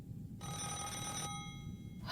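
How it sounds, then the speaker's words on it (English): A telephone rings indoors in an anime scene: a single steady electronic ring tone of about two seconds, moderately loud and alone without talk. "I'll try to wake him up with a phone call."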